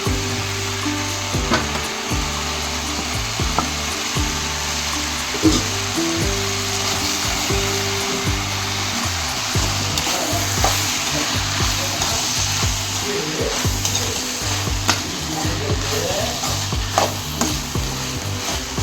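Ivy gourd stir-frying in a pan with about a quarter of a grated coconut, a loud, steady sizzle broken by repeated scraping stir strokes, close up and continuous.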